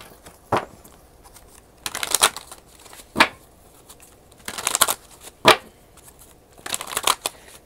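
Tarot cards shuffled by hand in four quick riffling bursts, each a crisp papery flutter lasting about a second, separated by short quiet pauses, close and clear with no talking.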